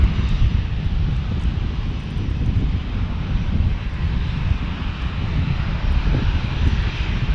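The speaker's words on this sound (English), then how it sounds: "Also a Cessna Citation on the other side." At San Diego airport, a continuous loud jet engine roar fills the air near a Cessna Citation, a steady broadband rumble with no voices.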